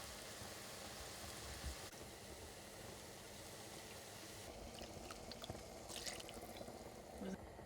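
Broth is poured into a pan of flour-coated beef stroganoff base while being stirred, producing a steady, faint wash of liquid splashing and sizzling, with light scraping clinks near the end.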